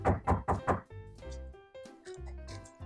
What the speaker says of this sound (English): The door goes knock, knock